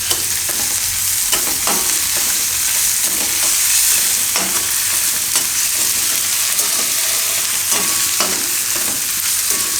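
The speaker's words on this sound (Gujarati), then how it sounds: "નાખીને પછી એમાં આપણે નાખશું આ આદુ મરચાં અને લસણ જે આપણે વાટીને રાખ્યું હતું. આને મિક્સ કરી લેવું." Ground ginger, green chili and garlic paste sizzles loudly in a hot pan for besan bhurji, with a spoon scraping and stirring at an irregular rhythm throughout, close up and with no talking.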